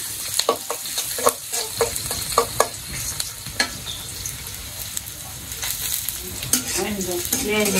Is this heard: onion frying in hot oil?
yes